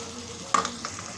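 Boiled tripe (ojri) dropped into a hot spice tempering, giving a sudden loud sizzle followed by stirring and fading crackle as it fries in the pan.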